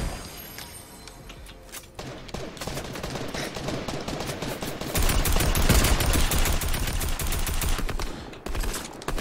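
Rapid bursts of gunfire from the video game Fortnite crackle through dense overlapping game noise, growing louder and busier in the second half, with no talking.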